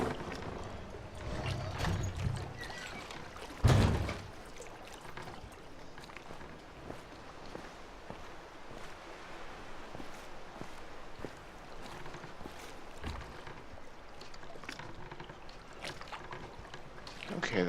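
A boat glides over water in The Witness video game, making a faint, steady wash and trickle with one brief louder splash early on.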